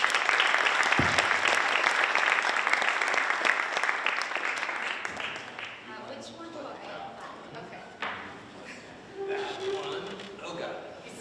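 Loud applause from a lecture-hall audience welcoming two visiting architecture critics, dense clapping that swells through the first half, then thins and fades to scattered claps and room noise.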